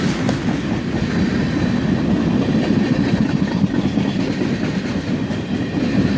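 A CSX freight train with tank cars carrying LP gas rolls past as its locomotives slow along a siding, a loud, close, continuous rumble with steady wheel clatter throughout and no voices.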